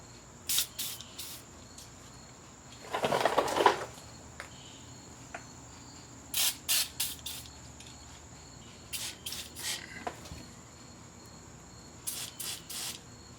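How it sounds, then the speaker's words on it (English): A short, hissing burst of silicone aerosol spray close by onto rubber insulators of a Honda Accord steering rack, with a few brief, sharp high spurts around it and no talking. "These insulators can be stubborn, so just hit them with a little bit of silicone spray."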